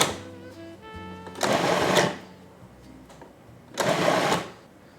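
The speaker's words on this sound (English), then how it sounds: "All we have to do is pulse the machine to create a chunky salsa." A food processor pulses roasted jalapeno salsa in two short, loud whirring bursts a couple of seconds apart, close up, with quieter kitchen sounds between them.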